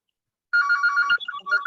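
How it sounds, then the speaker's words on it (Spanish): A phone ringtone breaks the silence in a math class: a short, bright electronic melody of quick repeated tones, fairly close, heard on its own without talk. "el teléfono, pues."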